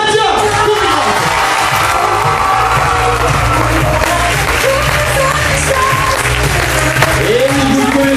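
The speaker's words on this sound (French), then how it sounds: "On applaudit bien fort, mesdames et messieurs, Radia." An audience at an evening holiday-camp show applauds loudly for a performer named Radia, with steady clapping, yells and whoops layered over loud music throughout.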